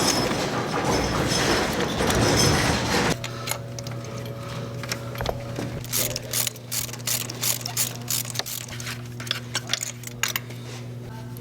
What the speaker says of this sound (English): Now with a 16mm spark plug socket, I also recommend buying a decent extension as well because these are pretty deep. We're going to remove the old spark plugs.